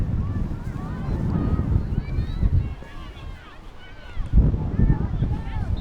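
Wind gusts roar steadily across the microphone at an outdoor girls' field hockey game, a dense low rumble that swells and eases over several seconds, with faint sounds of people in the background.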